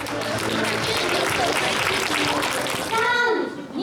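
Applause at an autumn wedding celebration in Japan, a crowd clapping steadily throughout, mixed with children's voices and chatter, ending with a brief swelling shout.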